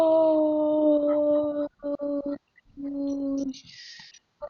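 Long drawn-out howls from a video game dog in Robbery Bob 2, sustained and steady, broken by brief pauses, with a few electronic blips at the end.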